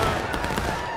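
Rifle volley in the War of Rights video game, a dense crackling burst of many muskets firing together, loud and close, then a rumbling tail fading over about a second.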